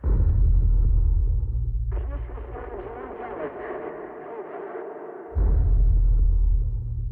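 Radio feedback interference breaks into a transmission as a sudden harsh, wavering electronic screech over a few seconds, cutting in over a low rumbling hum and then dropping away.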